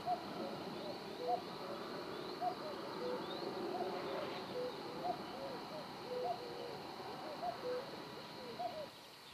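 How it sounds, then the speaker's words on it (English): Cuckoos call repeatedly on Dartmoor near the Emsworthy Mire Nature Reserve on a spring morning, with their two-note calls coming at regular intervals, moderately distant, over quiet ambient background. "The cuckoos are going mad this morning."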